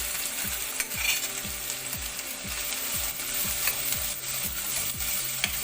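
Onions, a cinnamon stick and cloves frying in about three tablespoons of hot oil for a prawn masala, a steady close sizzle broken by a regular rhythm of scraping stirs, with no talking.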